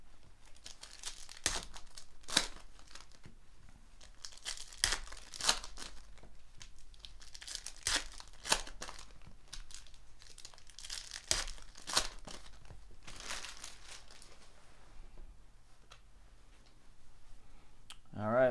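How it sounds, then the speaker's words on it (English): Packs of 2017 Panini Elite Extra Edition baseball cards are torn open one after another, giving soft, close crinkling and tearing bursts with scattered clicks and quiet gaps between them. "we're going to open all the packs"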